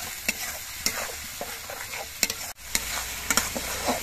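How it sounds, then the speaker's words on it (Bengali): Ginger-garlic paste, tomato paste and spices are stir-fried in a pan for a jackfruit kofta curry. A loud, continuous sizzle runs under regular spatula scrapes and knocks against the pan, with no talking. "এবার এগুলো নেড়ে চেড়ে কিছুক্ষণ কষিয়ে নেব, যাতে আদা রসুনের কাঁচা গন্ধটা চলে যায়।"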